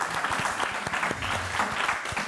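Studio audience applause on a French midday television show, a short, dense burst of clapping heard close and at steady loudness.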